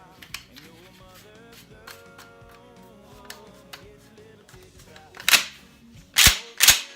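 Mossberg 590 pump-action shotgun being function-checked after reassembly: quiet handling clicks give way to three loud, sharp metallic snaps close by near the end.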